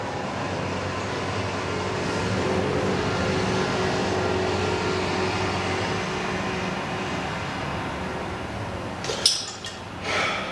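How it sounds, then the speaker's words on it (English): A forklift rolls past with a steady mechanical rumble that swells and then fades. Sharp clinking knocks sound near the end. "We're going to pause for a forklift drive by."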